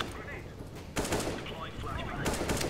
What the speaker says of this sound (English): A couple shots on stump at mid.